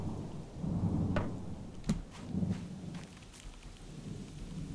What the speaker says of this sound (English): I can't hear you with all the frickin' wind.